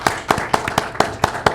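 Council meeting audience clapping in a short, brisk burst of about seven sharp, evenly spaced claps, close and fairly loud, like a small room of people applauding together.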